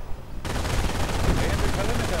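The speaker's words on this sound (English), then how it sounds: "And these Pioneers coming under heavy fire." Dense, continuous gunfire fills a World War II strategy video game battle, a loud rattling fusillade that starts abruptly and keeps up without pause.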